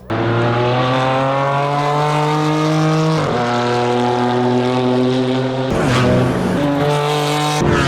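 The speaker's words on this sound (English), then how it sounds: "it sounds kind of like a inline 6 from BMW" A loud engine drones steadily at high revs with a smooth, buzzing six-cylinder tone, dipping briefly twice as gears shift before pulling again.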